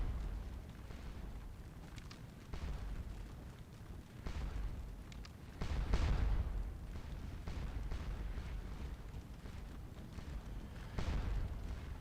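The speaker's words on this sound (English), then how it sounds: "This artillery's having a nice time of it up here on the northern part of the battlefield." Artillery fire rolls across a Napoleonic battlefield in Scourge of War: Waterloo, several distant, muffled booms spaced a few seconds apart over a low, steady battle din, all faint.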